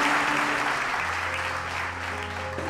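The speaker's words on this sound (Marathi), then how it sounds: "प्रभूसाठी एक जोरात टाळी वाजूया." A church congregation at a prayer meeting claps loudly and steadily for the Lord, a dense, continuous wash of applause with a low sustained musical tone underneath.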